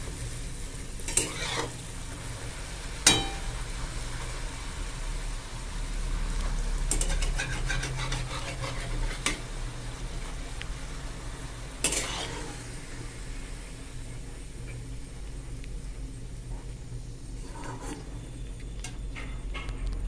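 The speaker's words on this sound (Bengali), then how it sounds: "এরকমভাবে সবগুলো তুলে নিচ্ছি ভেজে ভেজে।" Chatu puri frying in hot oil as they puff up: a continuous bubbling sizzle with occasional sharp clinks of a utensil against the pan, close and steady, with no voices.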